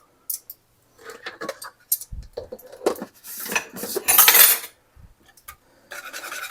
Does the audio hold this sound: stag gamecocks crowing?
no